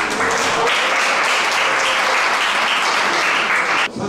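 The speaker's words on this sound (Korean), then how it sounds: "뜨거운 박수 한번 부탁드릴게요" Loud, full audience applause at a graduation gathering for a CEO golf course in Sriracha, Thailand, sustained at an even level before cutting off abruptly at the very end.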